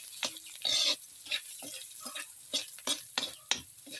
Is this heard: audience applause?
no